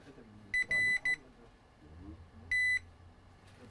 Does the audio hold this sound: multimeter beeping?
yes